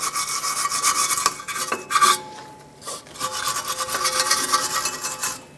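A rusty rear brake backing plate on a 1997-2001 Lexus ES300 is scrubbed with steady, rasping strokes, close and fairly loud, with a few brief pauses between bursts.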